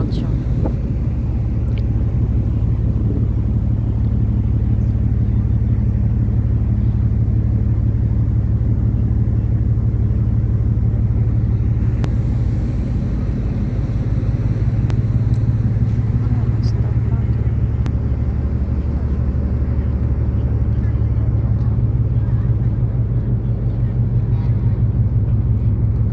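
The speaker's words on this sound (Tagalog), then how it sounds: "Yan yung tambotso." The exhaust pipe of a ship's engine, heard from an upper deck, gives a loud, constant low rumble. It drones without a break for the whole stretch, with wind buffeting the microphone and a person talking over it.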